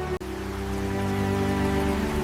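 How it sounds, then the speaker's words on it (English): Rain falls at night over the wreckage of collapsed ruins. It sounds like a steady, soft hiss mixed with a sustained tonal drone, and one brief dropout comes near the start. "Rain began falling over the wreckage."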